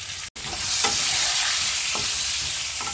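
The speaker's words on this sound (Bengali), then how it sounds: "আলুগুলো ভাজার সময় একটু নুন অ্যাড করে" Potatoes sprinkled with salt and turmeric fry in oil left from fish heads, a dense close sizzle broken by a brief gap near the start, then light utensil stirring taps over the steady hiss.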